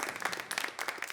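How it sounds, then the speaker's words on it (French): An audience at the Prix Kalou 2026 awards claps along briefly, a short burst of scattered hand claps, moderately faint and close. "Si le public derrière moi peut applaudir en même temps"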